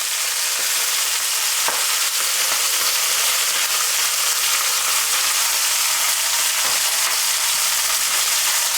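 Onions sizzling and frying steadily in a pan for a homemade nem kebab, a dense continuous hiss with a few soft stirring knocks, close and fairly loud with no voices.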